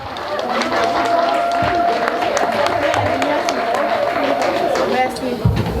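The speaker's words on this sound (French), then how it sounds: "Applaudissez Madame Naoum" An audience applauds a woman being welcomed at an evening association event, with steady dense clapping and crowd noise held throughout, mixed with a sustained tone and some chatter.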